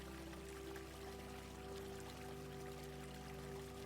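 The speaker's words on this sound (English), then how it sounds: "until all that's left is the soft sound of water and the quiet rhythm of your own breath." Soft, steady flow of river water, a continuous gentle wash heard faintly beneath a low, sustained hum.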